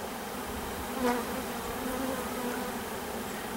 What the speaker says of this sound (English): There's bees on my arm and they're just kind of sitting there.